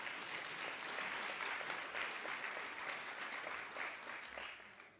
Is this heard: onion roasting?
no